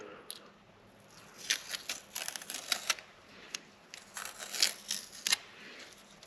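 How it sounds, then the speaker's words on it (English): Masking tape peeled off after fitting a Big Block Chevy intake manifold on a 1969 Chevelle: quiet, close crinkling and ripping bursts in irregular clusters over a faint background hiss. "And then we can just pull off the tape."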